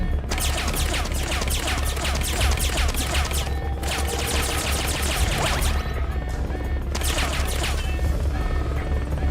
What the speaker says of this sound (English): You better do something about that chopper.